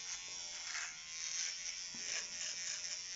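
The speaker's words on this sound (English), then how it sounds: "Very fast job with the trimmer." An electric beard trimmer touching up stray hairs around the mouth while shaping a moustache, giving a steady close buzz that shifts slightly in pitch as it moves over the hair, with no talking.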